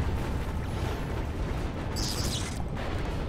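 Uber Cannon blasts detonating in the strategy game Planetary Annihilation: a sustained low rumble of explosions with a sharper bright burst partway through, loud and dense with no voices.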